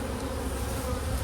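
Dense, steady buzzing of honey bees swarming close around an open hive box during a package and nuc installation, with a continuous insect drone filling the short moment and no talking.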